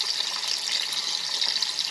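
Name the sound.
potatoes frying and crackling in hot oil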